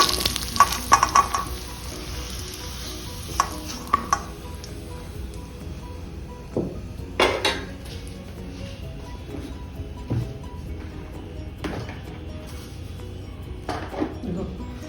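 Fried pieces of dried seer fish are lifted from a hot pan into a bowl for a fish curry, with a steady oil sizzle and occasional clinks and scrapes of a utensil against the pan, some close and sharp.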